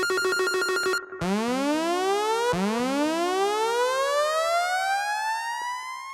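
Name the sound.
synth sound effects from a sampler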